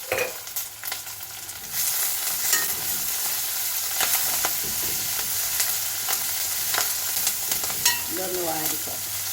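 Ginger, garlic and green chili sizzle steadily as they sauté in a hot pan, with repeated scrapes and stirring clinks of a utensil and a few sharper clatters near the end.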